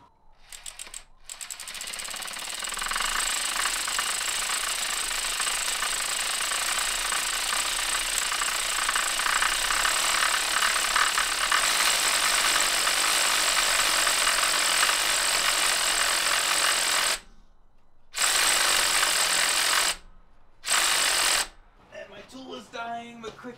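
A VW 1.6 diesel engine cranks and fires, then runs with a loud, steady rattling clatter for about fifteen seconds before cutting out and restarting in short bursts.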